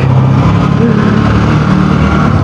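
A car rolls downhill under engine braking without the brakes applied. A loud, steady drone of engine and road rumble continues unbroken throughout, with no voices.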